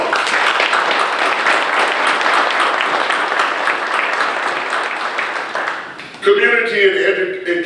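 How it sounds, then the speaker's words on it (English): An audience at a county government event gives another round of applause, dense clapping that holds strong for about six seconds, then fades as a voice begins speaking. "Let's give them another round of applause."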